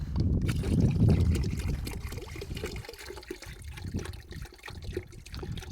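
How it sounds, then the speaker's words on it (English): Bleach pours into a bucket with a low, sloshing gush that starts strong and tapers into an uneven trickle, fairly quiet and without speech. "So you pour your bleach in your bucket"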